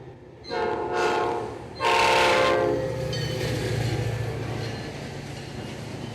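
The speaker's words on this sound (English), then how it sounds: "All right, second horn salute of the day." A Metra commuter train horn sounds twice, a short blast followed by a longer one, over the steady rumble and clatter of the train passing in Chicago's western suburbs.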